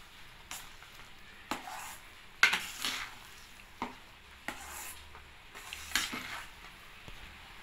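Rava kesari is mixed in a pan over heat, quiet scraping strokes and occasional metallic clinks of a spoon against the pan at an uneven pace, close but faint.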